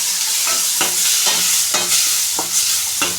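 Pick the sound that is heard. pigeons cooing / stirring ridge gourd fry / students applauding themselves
stirring ridge gourd fry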